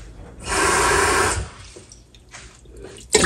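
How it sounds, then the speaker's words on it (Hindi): Water poured from a vessel into a cooking pot holding raw beef for a taro and meat curry, a steady splashing pour lasting about a second, close and fairly loud, followed by faint handling noises. "इसमें हम पानी डाल दें इतना कि उसमें गोश्त गल जाए।"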